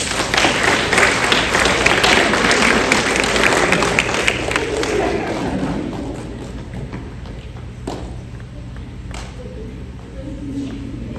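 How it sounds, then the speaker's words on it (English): An audience of parents applauds at a fourth-grade class play performance, loud dense clapping that gradually thins out and fades after several seconds, with a few scattered claps and thumps near the end. "Everybody give her a round of applause."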